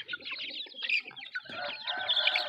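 Several chickens cluck and chatter in overlapping bursts nearby, a busy, uneven flock sound without speech.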